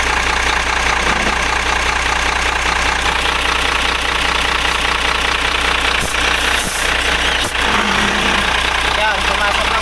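HOWO 371 truck diesel engine idling with a steady knocking rumble, loud and close, as a gear is shifted after clutch master work; brief clunks from the shift stand out over the running engine, with voices in the background.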